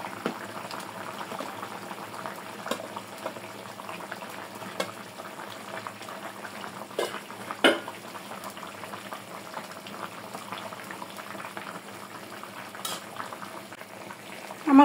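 A pot of hilsa fish and green banana curry simmers steadily, with a faint, continuous bubbling and occasional small pops, low and unbroken with no talk.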